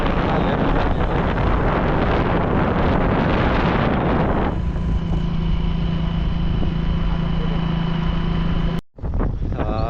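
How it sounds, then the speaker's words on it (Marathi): Strong, very cold wind during a rainstorm buffeting the microphone in a loud, steady roar, easing slightly halfway through and cutting out briefly near the end. "एकदम गार वारा सुटलंय"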